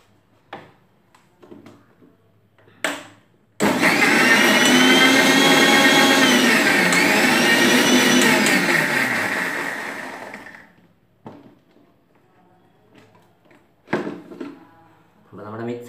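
An electric mixer blending a Tang shake runs steadily for about seven seconds, a loud whirring hum that winds down at the end. Short clicks and knocks come before and after it.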